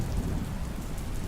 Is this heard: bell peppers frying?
no